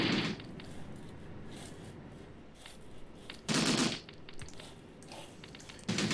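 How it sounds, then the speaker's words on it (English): Machine gun fire in the Graviteam Tactics war game: three short, loud bursts of rapid gunfire, the longest near the middle, separated by quieter stretches of ambient battle noise, with no talking. "Ooh, machine gun."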